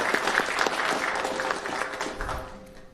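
Brief round of audience applause at a school committee meeting, steady indoor clapping from a modest crowd that tapers off toward the end.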